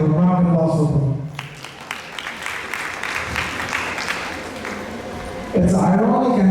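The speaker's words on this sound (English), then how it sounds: "Round of applause for them" Audience applause at a Diwali festival mela held at ISKCON Durham, a wash of clapping rising in the middle stretch between talking voices that open and close the moment.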